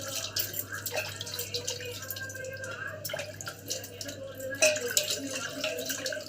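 Water splashes and drips as a cooking vessel, soaked overnight in tamarind, is rinsed clean under the tap, with running water and clatter throughout and a person speaking faintly underneath.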